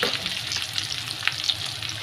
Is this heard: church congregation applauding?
no